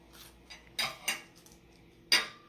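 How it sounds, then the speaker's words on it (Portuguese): Cutlery clinks against a plate while salad is eaten at a meal, a few soft scattered taps and scrapes close by in a quiet room. "Glitterosa, essa salada tá muito boa."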